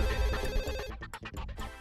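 A telephone rings loudly with a continuous bell tone that breaks into a rapid pulsing trill toward the end, alone with no speech over it.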